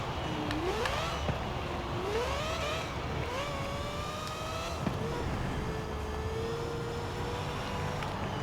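A 1973 Mazda RX-3 with a rear-wheel-drive drift tune in Forza Horizon 4, its engine whining upward through several gear changes, the pitch climbing and dropping with each shift, moderately loud and steady.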